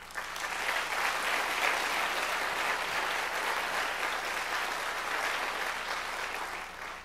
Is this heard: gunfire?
no